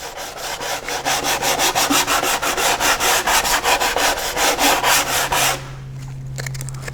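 Close, rhythmic back-and-forth strokes of 120-grit sandpaper rubbed by hand over primer on a racing shell, about a dozen even passes, then stopping to leave a low steady hum.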